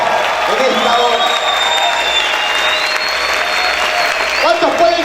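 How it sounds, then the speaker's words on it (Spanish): Loud sustained applause mixed with shouting from a church congregation, a continuous dense roar of clapping and cheering voices, with some singing or talking woven through. "Grita y aplaude fuerte al Señor en esta hora."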